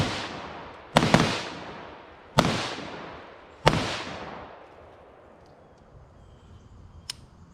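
Three loud, sharp pistol gunshots during a box drill at an outdoor range at about 10 to 12 yards, evenly spaced and each trailing off in a long echo, then a fainter crack near the end.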